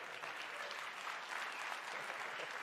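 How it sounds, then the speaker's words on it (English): A crowd at a GDC 2023 presentation applauds, a steady, continuous patter of many hands that sounds faint and distant. "Let's clap."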